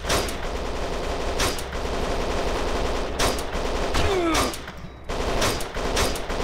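Sustained gunfire from the video game Kane and Lynch 2 rattles almost without pause for the whole stretch, with dense overlapping shots that dip only briefly near the end.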